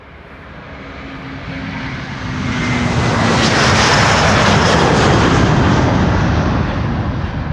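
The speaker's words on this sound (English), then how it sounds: "Delta Airlines Flight 47 on its way to New York, JFK" A Delta Airlines Airbus A330 jet departs Schiphol bound for New York JFK, its broadband engine roar building loudly over several seconds and holding at full power, with no talk over it.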